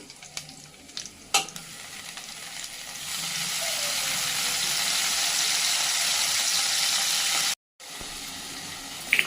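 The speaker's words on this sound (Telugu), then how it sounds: "కొంచెం కరివేపాకు, కొన్ని పచ్చిమిరపకాయ ముక్కలు వేసి వేయించుకోవాలి బాగా." Curry leaves and green chilli pieces fry in hot oil, a steady close sizzle that swells and holds with a few stirring knocks early on, then cuts out briefly and returns near the end.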